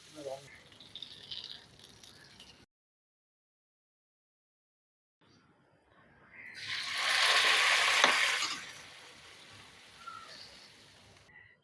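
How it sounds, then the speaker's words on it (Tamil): Onion with curry leaves and coriander leaves sautéing lightly in a pan for drumstick poricha kuzhambu, a soft sizzle at first, then a pause, then a louder hissing burst that fades back to a gentle fry. "கொஞ்சமாக கருவேப்பிலை கொஞ்சமாக மல்லி இலை இதையும் லைட்டாக வதக்கிடலாம்"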